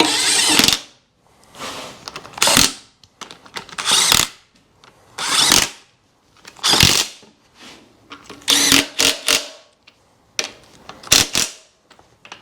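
Power tool driving down clutch bolts, repeated short bursts of whirring and ratcheting, close and loud, separated by brief pauses and scraping handling noises.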